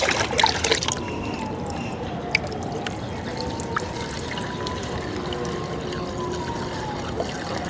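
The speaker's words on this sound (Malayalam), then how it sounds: "ഇത് നിറയുന്നതിനും വരെ നമ്മൾ വെള്ളം ഒഴിച്ചു കൊടുക്കണം" Water is poured into a water tank cleaner, making a steady, moderately quiet trickling gush with small splashes and faint drips throughout.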